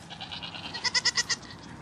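Dairy show goats bleat in a quick series of five nasal, wavering calls near the end, loud and close, following a softer stretch of similar bleating.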